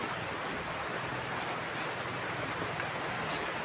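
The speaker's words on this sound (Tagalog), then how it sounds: "O ngayon nga maulan na naman." Steady, dense rain hissing continuously across the whole stretch, broadband and even with no breaks or voices.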